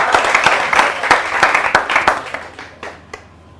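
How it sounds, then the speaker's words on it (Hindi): Audience applause at a Hindi poetry gathering, a burst of clapping from a modest group with distinct individual claps, loud at first and thinning out to scattered last claps. "और आप सब हाथ खोलिए, ताली बजाइए।"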